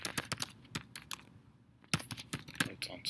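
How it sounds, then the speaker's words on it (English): Notes typed on a computer keyboard, close-up rapid keystrokes in two quick bursts separated by a short pause, alone and fairly quiet. "If you want any notes, you can type in notes."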